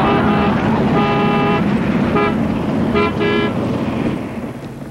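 A taxi's car horn honks in repeated short toots, close and loud, over steady street traffic noise.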